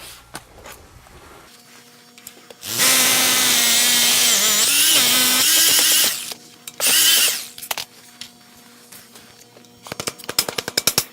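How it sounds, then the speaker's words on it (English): A power drill whines loudly for several seconds, pauses, then runs again in a shorter burst, followed by scattered clicks and knocks. "Drill a couple more holes."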